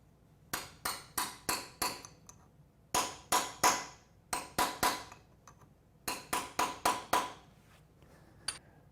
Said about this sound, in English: I take a chisel just to get underneath it and tap it a few times